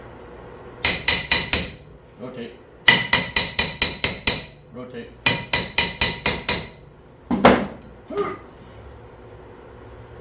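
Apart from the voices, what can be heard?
hammer tapping stuck metal part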